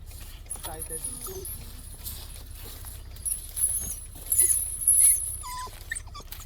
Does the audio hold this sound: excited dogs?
yes